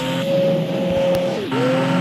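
An expensive car drives in a video game, its engine holding a steady loud tone that dips briefly and then recovers, with no talk over it.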